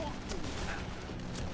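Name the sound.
gunfire in the video game Dead Island 2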